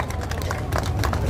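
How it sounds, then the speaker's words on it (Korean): An outdoor rally crowd claps together in a dense, continuous burst of applause, with some murmuring voices mixed into the steady patter. "박수 한번 주세요"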